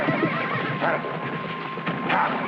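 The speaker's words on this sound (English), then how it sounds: "I've got myself a wild horse." A horse whinnies in a shrill, wavering call, with more neighing a moment later, set against a steady background hum.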